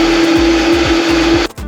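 A blender purrs steadily through cooked butternut squash soup with some of its cooking liquid, a loud continuous motor whir with a periodic churning thump, before the motor cuts out near the end.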